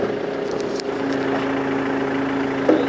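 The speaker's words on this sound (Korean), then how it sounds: "헤드라이트 딱 나오면서 자, 엔진음 한번 들어보자고." A Mercedes-Benz sedan's engine idles steadily with a low, even hum, close by and continuous, with a few faint clicks on top.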